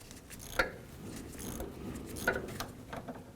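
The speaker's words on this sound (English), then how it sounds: "using our 11 millimeter socket and ratchet, we're going to go ahead and remove this bolt down here" An 11 mm socket and ratchet turns a steering shaft bolt on a 2004-2012 Chevrolet Colorado, giving quiet mechanical clicking with two sharper ratchet clacks amid low workshop noise.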